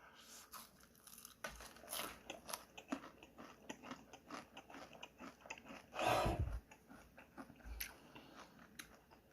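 Crunchy bites and chewing of a crispy pan-fried pancake made with minari and marsh snails, repeated crackly bites close up with one louder crunch partway through, no speech.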